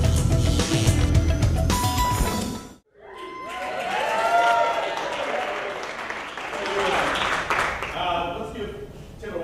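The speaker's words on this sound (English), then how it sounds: "Let's give Taylor Walsh a big hand of applause tonight" An audience at the Ignite Tampa Bay 2020 event breaks into loud applause with some cheering for a few seconds, which cuts out abruptly before a voice starts speaking.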